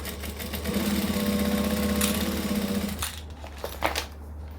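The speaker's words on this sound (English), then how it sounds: "the more time you spend on your sewing machine, the more you'll hear the little changes" A sewing machine runs steadily with a rapid mechanical hum for a few seconds, then stops, leaving a low background drone and a couple of light clicks.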